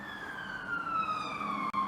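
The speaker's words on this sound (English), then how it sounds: "That's the ambulance" An ambulance siren wails steadily at moderate distance, its tone sliding slowly downward over a faint background hum of traffic.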